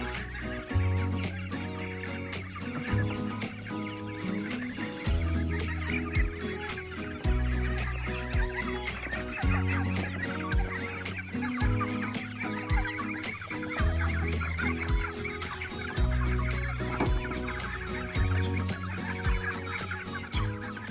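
Cornish cross broiler chickens cluck and murmur continuously during morning farm chores, a dense, close flock chorus with overlapping low calls and no talking.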